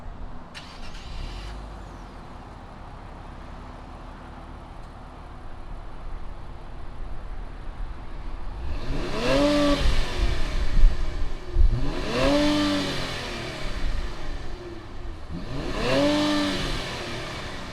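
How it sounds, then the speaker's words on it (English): After a quiet idle, an Infiniti Q50S Red Sport 400 engine revs three times in quick succession, each rev rising sharply in pitch and then falling back to idle. "fire this Q50S up and see what it sounds like"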